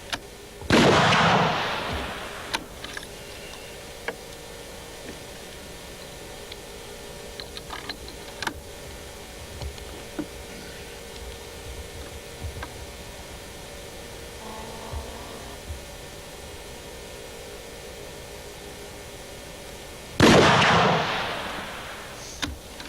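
Two sharp, loud reports from a 600 Nitro rifle firing a 950-grain bullet into 12.5 gallons of water, one at the start and one near the end, with faint clicks and quiet shuffling between them.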